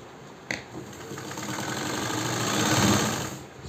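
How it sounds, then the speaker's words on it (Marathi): A sewing machine stitches a sleeveless blouse, a close, continuous rapid mechanical whirr that swells and eases, starting after a sharp click. "लगेच शिवून घेते।"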